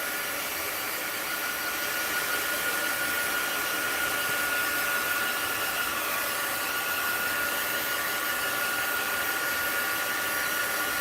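A hair dryer blows on a very wet mixed-media art journal page, a loud, steady close-up roar of airflow and motor that runs without a break, with no talking.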